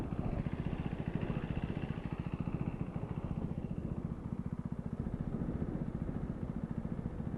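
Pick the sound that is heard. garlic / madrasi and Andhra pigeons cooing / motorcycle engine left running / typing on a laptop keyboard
motorcycle engine left running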